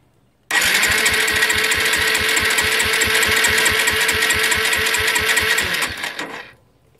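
An engine cranks over during a compression test, a loud, close starter churn with a fast, even rhythmic pulse lasting about six seconds before it cuts off and fades.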